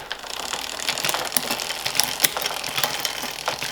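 A workshop machine runs steadily through its gears, giving a busy mechanical whirr with rapid ratcheting clicks and small knocks throughout. The sound is fairly close and continuous, with no talking over it.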